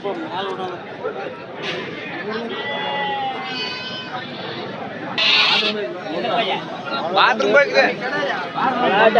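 Goats bleat repeatedly among young kids and adults at a busy village goat market, mixed into constant crowd chatter and people talking nearby.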